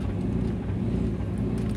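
LS V8 engine in a Porsche 944 at 4% throttle: a steady low, close idle-like rumble with a slightly uneven hunting pulse, continuous and alone.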